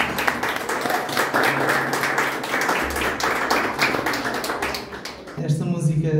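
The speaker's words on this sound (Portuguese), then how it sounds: "Agora chama ao palco André Pereira, uma salva de palmas." An audience claps for a performer walking onto a stage at a live music event: dense, continuous applause for about five seconds that then fades as a voice and music take over.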